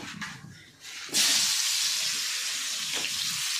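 Bitter gourd coated in salt and turmeric hits hot oil in a wok, and a loud, broad sizzle starts suddenly and carries on steadily after some quieter handling noise.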